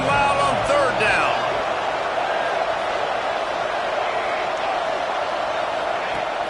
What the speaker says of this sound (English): this crowd bearing down and getting loud on 3rd down